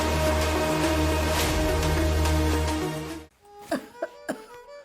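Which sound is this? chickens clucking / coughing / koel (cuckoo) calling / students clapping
coughing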